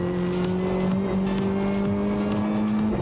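A Renault Clio R3T race car drives hard on a track, its engine holding a steady, buzzing drone at close range with slight pitch shifts, and no voices are heard.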